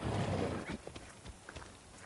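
Horse in Assassin's Creed Odyssey: a loud snort-like whinny burst at the start, followed by a handful of light, irregular hoof clops fading quieter, with no talking over it.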